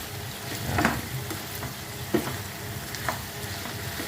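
Ginisang munggo, a mung bean dish with tomato, sauteing in a pan: a steady close sizzle and frying hiss with occasional stirring clinks and scrapes, no talking.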